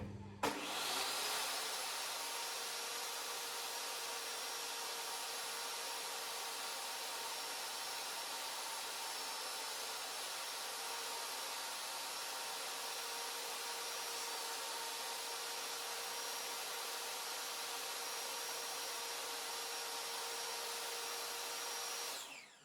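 A table saw rips through a wood board in one long, steady, loud whine that holds for about twenty seconds before cutting off, with no talking.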